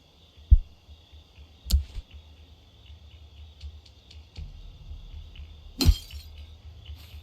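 Window glass shatters in the video game Thief Simulator, several sharp cracks and one loud smashing burst over a quiet night backdrop of chirping insects.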